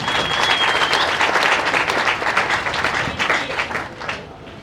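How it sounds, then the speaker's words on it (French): A crowd of young people at an International Youth Day gathering in South Kivu claps loudly for themselves: a close, full burst of applause that stays strong, then tapers slightly over a few seconds. "Vous pouvez vous-même applaudir pour vous-même."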